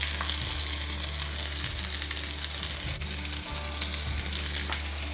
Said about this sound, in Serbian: I sada ovo ovako pržimo dok ne potrošimo svu piletinu.